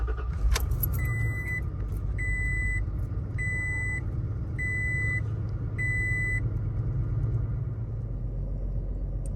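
The 3.5 V6 in a 3rd-gen Toyota Tacoma cranks and fires after a spark plug replacement, settling into a steady low idle while a chime beeps five times in an even rhythm.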